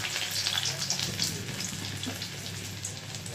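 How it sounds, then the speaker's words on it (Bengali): Garlic added to hot oil already tempered with whole garam masala (cardamom, cinnamon, cloves) for chicken makhani, giving a steady, dense, hissing sizzle at close range with no talking. "আর এর মধ্যে দিয়ে দেবো আমি রসুন"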